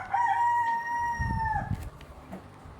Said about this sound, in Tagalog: Hoy, manok, ikaw yun.